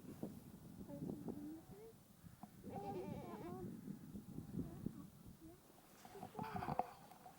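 Sheep on a farm in Dovedale in the Peak District bleat a few times at moderate distance over outdoor wind noise, with a person speaking quietly nearby.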